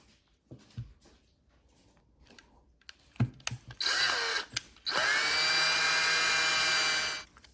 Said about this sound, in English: you're gonna wanna Dremel essentially these rough bottoms down to make it a little bit more of a round shape